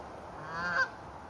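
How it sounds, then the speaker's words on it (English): A single short Canada goose honk rises briefly over soft outdoor background noise from a large flock. "There's bloody hundreds of Canada geese here."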